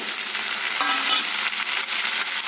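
Tomato pieces hit a pan of hot onion and ginger-garlic paste with a loud, continuous sizzle that hisses steadily throughout, alone, with no talking.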